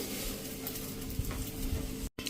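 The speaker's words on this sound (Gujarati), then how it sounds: "1 ચમચી જેવું બટર નાખી દેશું અને ગેસની ફ્લેમ સ્લો રાખી અને આ રીતે આપણે એને શેકી લેશું" A dabeli bun toasts in butter on a griddle over a low gas flame, a close, continuous buttery sizzle with a few soft scraping turns, broken by a brief cut near the end.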